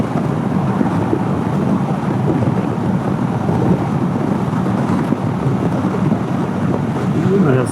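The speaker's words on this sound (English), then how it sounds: "Woo, it's windy." Strong wind roaring steadily and loudly into the microphone outdoors before dawn, a dense broadband rush with gusty buffeting throughout and no break.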